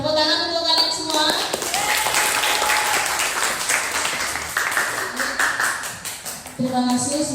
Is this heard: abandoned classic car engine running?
no